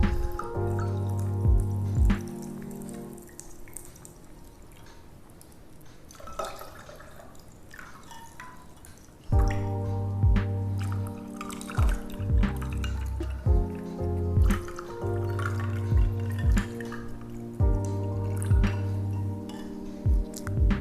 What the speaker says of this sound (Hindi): उसके बाद हम इसमें ठंडा पानी डाल देंगे।